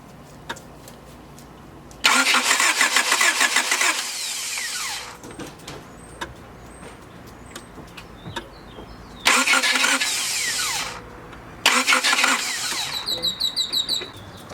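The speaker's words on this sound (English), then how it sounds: "this starter still has the issue where it's not starting all the time, and now it's grinding quite badly" A replacement starter motor on a 1990 Honda Accord cranks in three loud, close bursts with harsh grinding and whirring, separated by quieter pauses with faint clicks.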